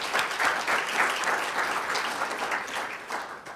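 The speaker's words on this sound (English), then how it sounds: "let's hear one more applause for Mr." An audience applauds Miguel Ángel Moratinos, UN Under-Secretary-General, with many hands clapping in a steady, dense patter that thins slightly toward the end.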